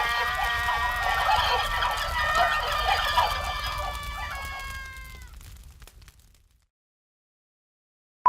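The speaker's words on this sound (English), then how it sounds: "And with that, Noah, I leave you with the sound of 33 turkeys that is also on fire." A dense flock of about 33 turkeys gobbling together in a loud, overlapping chorus that fades out into silence near the end.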